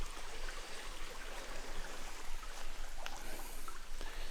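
A babbling mountain brook in the Adirondack High Peaks near the Seward Range, close to a campsite, gives a steady, full rush of flowing water with no pauses and no voices.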